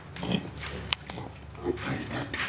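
A pet pig grunts and snuffles nearby in short irregular bursts, with a sharp click partway through and faint background noise.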